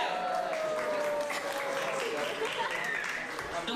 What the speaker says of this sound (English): So if you're a Persson, give us a shout